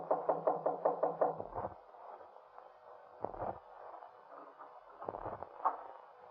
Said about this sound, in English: Just go up the stairs and knock on the door on the left.